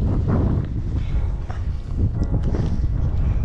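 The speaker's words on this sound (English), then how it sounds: "Cold wind." Cold, freezing wind buffets and roars steadily against the microphone outdoors near a sailboat, a dense continuous rush with no talking.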